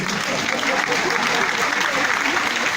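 An audience claps continuously at a steady, moderate volume, a dense wash of applause with no breaks.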